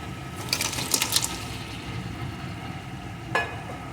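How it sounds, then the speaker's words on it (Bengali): Fried crabs go into sizzling spice masala in a pan while Bengali crab kosha cooks. A soft, steady sizzle runs throughout, with a few light clacks and stirring scrapes and no talking. "এখন আমি এর ভিতরে ভেজে রাখা কাঁকড়াগুলোকে দিয়ে দেবো"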